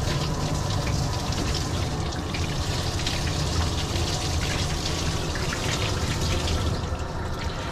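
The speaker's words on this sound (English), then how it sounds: "If you use slightly cooler water, it's better to rinse the conditioner off." Running water pours steadily from a tap while conditioner is rinsed off a tiny Yorkie dog during grooming, a constant close gushing splash with no talk.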